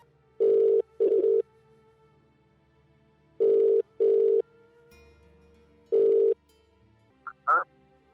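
A telephone rings in three short double bursts separated by pauses, followed by a couple of brief electronic chirps; otherwise quiet.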